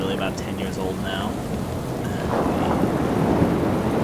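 In Call of Cthulhu: Dark Corners of the Earth, heavy rain pours steadily and thunder rumbles low and rolling, with a few faint higher tones early on and the downpour swelling in the second half.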